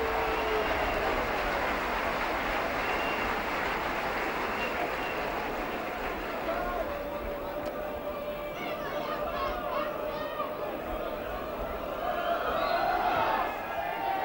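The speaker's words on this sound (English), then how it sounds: "a good round of applause for Barrow as they come back" Crowd applauding Barrow during a 1993 Challenge Cup rugby league match against Leeds at Headingley: a steady, broad wash of clapping and crowd noise that fills the whole stretch, with a commentator's voice talking over it.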